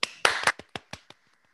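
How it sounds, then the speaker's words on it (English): A handful of sharp claps for a special guest on a talk show, a few quick hand claps that thin out into isolated, fading taps, close and sparse rather than a full crowd. "let's give a big round of applause for our very special guest"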